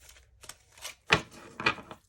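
Tarot cards are shuffled up close in a few quick riffling bursts, soft and papery, with brief pauses between them.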